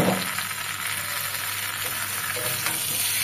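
Prawn heads with mustard and green chili paste fry loudly in a pan for a prawn and pointed gourd chorchori, a continuous close sizzle and hiss with faint stirring scrapes and no talking.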